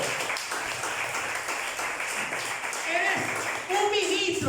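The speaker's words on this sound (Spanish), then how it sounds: "Denle un aplauso al Señor." Church congregation clapping in a steady, fairly faint wash, with a few voices rising near the end.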